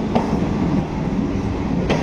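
A local train on the Naihati–Bandel line rumbles steadily nearby at a platform, a broad continuous roar of rolling carriages with faint rhythmic clatter.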